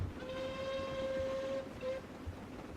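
A train engine blows a steady whistle, first one long tone and then a short second toot, heard at moderate volume over low rail rumble.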